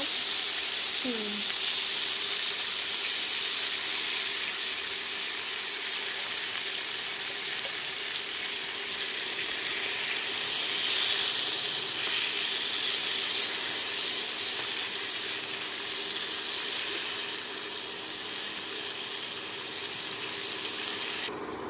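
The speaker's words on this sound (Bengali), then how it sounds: "আমগুলো কিছুক্ষণের জন্য তেলে ভেজে নিতে হবে" Mango pieces frying in oil for pickle give off a steady, close sizzling hiss that holds evenly for the whole stretch, with no voices over it.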